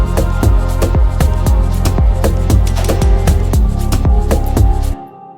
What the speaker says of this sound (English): the big legato strings down the first one here